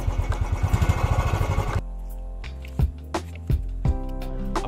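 A motorcycle engine on a bike ride to Yercaud near Salem, pulsing loudly and steadily at first, then dropping to a lower idle-like hum under music, with voices faint or absent.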